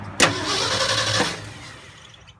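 A Ford F250 engine cranks briefly and then catches with a sharp burst, settling into a rough idle for a moment before the sound tapers off.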